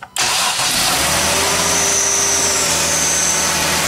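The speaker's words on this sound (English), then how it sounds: "ask my wife to go ahead and start up the vehicle right now" A 2007–2021 Dodge, Chrysler or Ram vehicle engine cranks and fires after a brief click, then settles into a loud, steady idle close by, with no talking.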